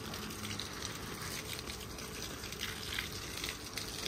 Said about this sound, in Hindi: इसको और पानी लगाया और जगह पे